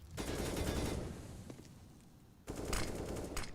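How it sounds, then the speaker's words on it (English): Rapid automatic gunfire exchanged in a Counter-Strike match on the Nuke map, two dense bursts of bullets separated by a brief lull with a single shot, fairly loud and with no voices. "An exchange of bullets"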